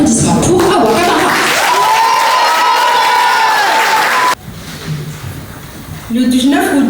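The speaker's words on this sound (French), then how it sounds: "S'il vous plaît, un maximum d'applaudissements pour Awa Kamara" Applause and cheering from a school crowd at a Parisian middle-school eloquence contest, loud and full at first, with a voice rising above it, then dropping suddenly to a quieter murmur before swelling again.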